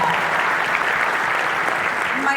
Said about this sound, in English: You guys can clap for that.